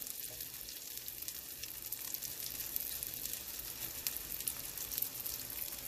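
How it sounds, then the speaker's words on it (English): Broccoli cheese cakes sizzle steadily in a pan over medium-high heat, a soft continuous crackle and hiss with no voices. "you don't want to really play with them once they're in the pan. Let them cook. I'm over medium, high heat."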